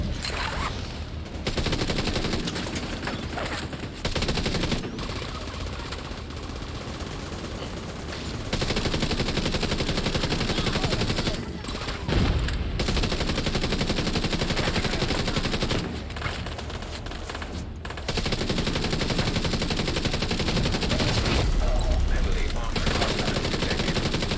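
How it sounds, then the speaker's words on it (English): Steady bursts of gunfire from shooting at enemies in The Division 2 run almost continuously and loudly, with a few brief gaps between volleys and faint talk mixed in. "all you have to do is shoot at them"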